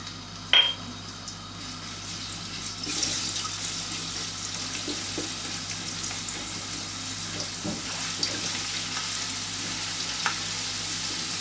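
Crushed garlic frying in melted desi ghee, a soft, steady sizzle with a brief sharp clink near the start and occasional light ticks, close and moderately quiet with no talk.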